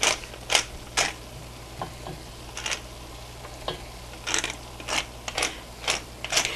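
A pepper mill grinds pepper over sautéing food on a home cooking show, giving bursts of dry crackly grinding in irregular twists with pauses between, close by, with no talk.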